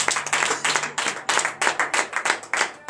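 Steady rhythmic clapping from a church congregation in acclamation during morning prayer, brisk even beats repeated for a few seconds, close and fairly loud with no voices.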